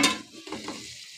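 Masala for chicken handi sizzles in a pan, with a brief scrape and stir at the start, then a softer frying crackle that trails off over about a second, with no voices.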